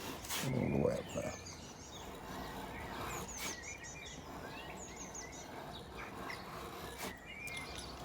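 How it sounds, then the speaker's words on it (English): Several birds chirp and trill at a distance, scattered calls repeating across the outdoor ambience, with a brief low rumble near the start. "Listen to the birds, they're going mad."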